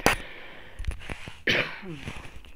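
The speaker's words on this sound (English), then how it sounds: "Apologize about my coughing." A few sharp, close coughs break the quiet, followed by a harsher burst and some throat noise, with short pauses between them.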